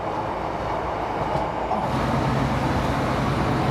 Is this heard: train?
yes